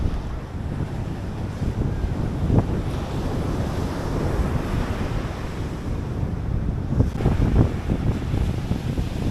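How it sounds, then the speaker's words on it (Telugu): Surf on Marina Beach in Chennai rolls in continuously, a broad steady wash of waves with wind buffeting the microphone and no talk. "మరీనా బీచ్ అంటే ఇది అనమాట"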